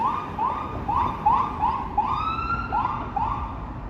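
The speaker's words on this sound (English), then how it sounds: "More sirens." A siren yelps repeatedly at moderate distance in downtown Toronto near Regent Park, quick rising chirps in a steady rhythm over low traffic rumble, with a brief longer wail midway.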